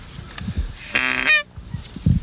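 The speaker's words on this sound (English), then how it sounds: "We've got some geese out here in front." Geese honk in flight over open prairie near a refuge, a brief burst of several loud overlapping honks from a flock, with a few soft low thumps and rustles before and after.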